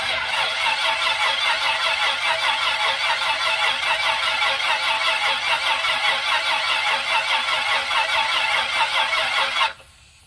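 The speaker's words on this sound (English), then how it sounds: "What's that noise? That's a fuel pump." An electric fuel pump on a Piper Comanche 400 runs before engine start, giving a steady, rapid pulsing buzz that continues evenly and then cuts off abruptly near the end.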